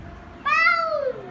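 A single cat's meow rises and falls over about two-thirds of a second, clear and fairly close, set against a quiet room hum without any talking.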